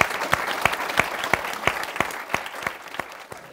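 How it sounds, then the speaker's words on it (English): An audience applauds five debate panellists, brisk even clapping from a mid-sized crowd at close range that fades slightly toward the end. "Could we all have a round of applause for all five panellists?"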